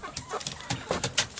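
Hens clucking as they are let out of their coop for the morning, with a couple of roosters among them; short, close, overlapping clucks and calls in irregular bursts.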